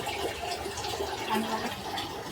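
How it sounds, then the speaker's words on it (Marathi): Water is poured into a pot of prawn curry (kolambi rassa), making a steady liquid gurgle and splash close by with slight swells in the middle. "थोडं पाणी टाकायचं ह्याच्यात"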